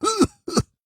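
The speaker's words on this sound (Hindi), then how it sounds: "अरे फिर से खांसी?" A man coughs hard twice in quick succession, each burst harsh and throaty, close by with a short silence between them.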